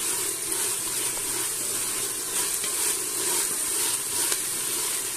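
Tomatoes for mushroom biryani sauté in a pan with a steady, bright sizzle and hiss that runs without a break, marked by faint stirring scrapes. The sound is close by and no one speaks.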